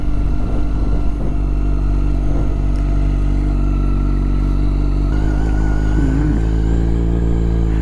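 A red Yamaha FZ1 motorcycle runs loud and close, its engine droning steadily with a rising pitch as it accelerates, with wind rush and a short higher-pitched wobble partway through.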